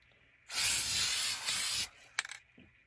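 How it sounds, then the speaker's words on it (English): A spray can coating glittered wine glasses set spinning on a turner, one loud continuous hiss of about a second and a half, followed by a couple of short, sharp spurts and faint clicks. "I'm just going to spray them."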